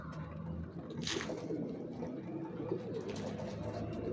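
Domestic pigeon, a purple Manisa bango, cooing softly in a loft, the low murmuring coos steady and fairly faint over a dense background of other birds.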